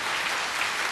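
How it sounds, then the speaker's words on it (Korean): Congregation at a Korean church service applauds the choir, a brief, dense burst of many hands clapping at steady volume with no talking. "우리 다시 한번 박수로 격려해 주시겠습니다"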